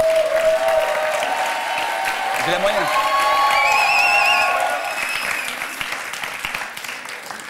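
A television studio audience claps steadily and loudly while people talk over it, the applause swelling briefly before gradually thinning out toward the end.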